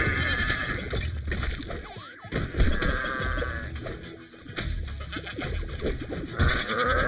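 A goat in the video game Bang On Balls Chronicles bleats amid busy game sound effects and music, its wavering calls rising out of the mix in a few short bursts.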